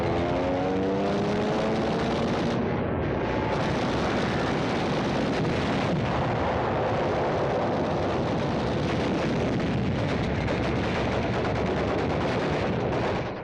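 Dense, continuous battle noise from the fight at Tarawa: Japanese gunfire and explosions merge into a loud, rumbling roar of rapid shots and blasts, with wind buffeting throughout and no voices.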